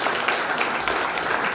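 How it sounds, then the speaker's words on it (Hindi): Loud audience applause greets performer Konika Bhandari at a theatrical presentation on legal literacy and women empowerment, a dense, steady wash of clapping with no voices over it. "जोरदार तालियों से स्वागत कीजिए कोनिका भंडारी का"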